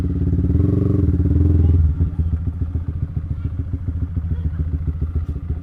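A motorcycle fitted with a JB159 trioval exhaust idles with a deep, steady rumble, then pulls away, its engine settling into a rhythmic, throaty pulse close by.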